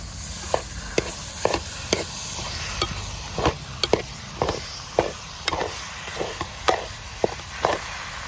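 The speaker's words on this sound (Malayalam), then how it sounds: "നല്ലപോലെ ഒന്ന് ഇളക്കി കൊടുക്കാം" Chicken roast stirred in a pan, with a sequence of irregular scraping and knocking strokes of a spoon against the pan over a low background hiss, with no talking.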